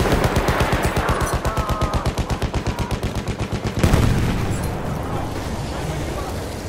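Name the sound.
machine gun firing, Battlefield 1 video game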